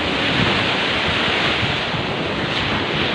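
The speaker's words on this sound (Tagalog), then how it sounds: "Malakas na yung alon." Strong ocean waves surge and wash steadily onto a beach in Japan, a loud, continuous roar of surf with wind buffeting the microphone throughout, no voices.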